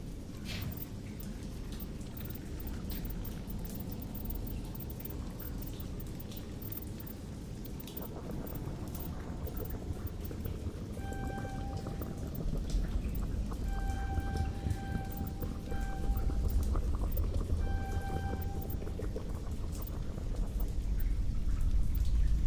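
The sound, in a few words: in-game water noise in the Mass Effect video game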